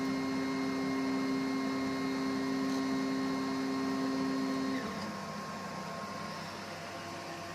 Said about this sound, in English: So he brings the Z platform to an initial level from where we'll start printing.